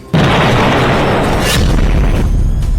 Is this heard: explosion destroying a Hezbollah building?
yes